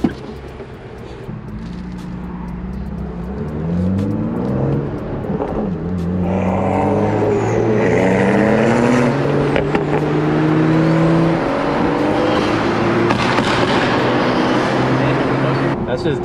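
A BMW M2 or 235i engine with downpipe, intake and tune revs and drones loudly through a throaty performance exhaust, pitch rising and holding over a sustained stretch, close by.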